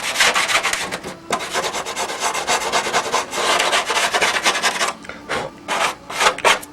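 A plastic Stuka model part is sanded and cleaned up close by, with rapid scratchy rubbing strokes in steady back-and-forth bursts and a few brief pauses near the end.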